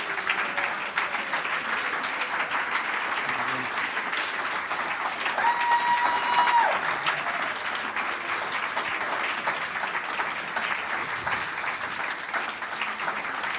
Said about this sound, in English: round of applause to this amazing panel